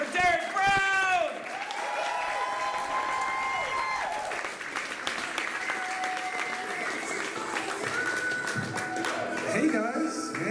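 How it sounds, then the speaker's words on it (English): Loud audience applause with cheering and whoops, sustained throughout, opening with a brief musical flourish. "keep clapping, keep clapping, keep clapping"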